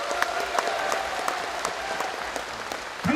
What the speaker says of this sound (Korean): 존경하는 강기정 후보님의 결단에 여러분 뜨거운 격려의 박수